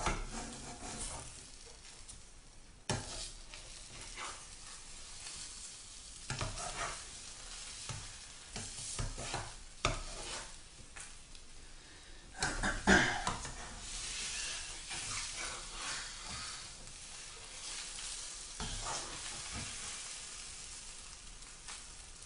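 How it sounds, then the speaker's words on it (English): A six-egg omelette cooks in a frying pan with a continuous soft sizzle and hiss, interrupted by occasional spatula scrapes and pan knocks across a long stretch, with no talking. "There's 6 eggs in here, so it's going to take a while to cook."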